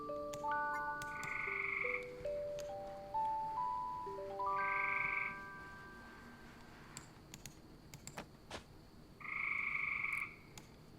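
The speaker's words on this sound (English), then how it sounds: "Oh my god, there's a frog outside." Loud frog croaking just outside, coming as bright sustained calls in three separate bouts spread across the stretch, with quieter gaps and faint clicks in between.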